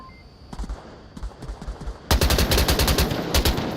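Gunfire from a competitive VR shooter match: scattered single shots at first, then a loud, dense burst of rapid automatic fire that runs to the end.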